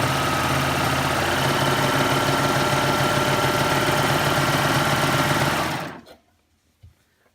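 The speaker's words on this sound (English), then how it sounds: "put my presser foot down, and start stitching" A Baby Lock Ovation serger stitches scrap fabric at a fast, even whir that runs continuously up close, then stops abruptly, followed by a brief soft clunk.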